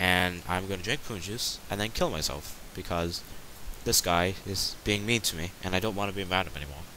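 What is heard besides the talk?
No everyday noises stand out.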